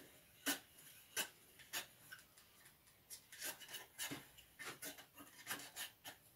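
A wooden leg vise handle, slightly warped, is tightened in a woodworking shop, giving a series of faint, irregular wooden clicks and scraping rubs spaced through a quiet room.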